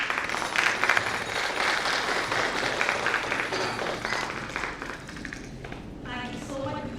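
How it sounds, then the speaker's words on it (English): An audience at a StudyMetro partner conference applauds a speaker, a continuous patter of clapping for several seconds that thins toward the end as a voice begins talking. "Big round of applause for her"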